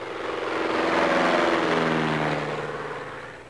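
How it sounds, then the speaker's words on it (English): A small bush airplane at a remote Alaska lodge airstrip, its propeller engine droning steadily and swelling louder then easing off, close by with no talk. "Airplanes are a necessity everywhere in Alaska."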